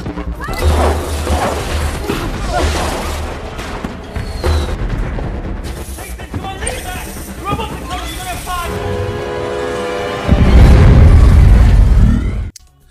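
Firecrackers and fireworks go off in a film scene, with loud bangs and crashes scattered among score and effects, and a heavy booming blast near the end.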